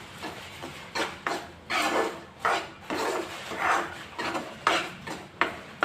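A spoon scrapes and stirs semolina and gram flour roasting in ghee in a pan, making repeated close rasping strokes in an uneven rhythm.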